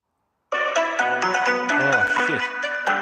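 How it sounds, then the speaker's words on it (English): A phone rings during a live stream, a melodic ringtone of stacked tones with shifting pitches that starts abruptly and plays loudly and steadily for a few seconds with no talk. "I'll have to answer a phone call."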